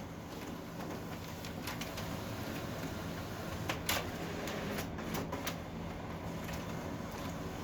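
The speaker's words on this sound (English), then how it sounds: "It spits them out, sucks them back in, and throws them out." Office printer running a double-sided job, with steady mechanical whirring and repeated clicks and thumps as pages feed out and pull back in, fairly faint and without talk.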